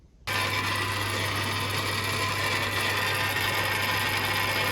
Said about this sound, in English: I've managed to get it in the lathe, so if I stop that